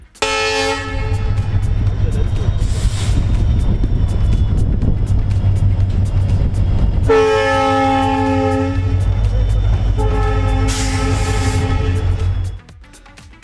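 An eight-car electric train on a bridge test run rumbles steadily past with a loud low drone, while two long horn blasts sound, one near the start and another in the second half.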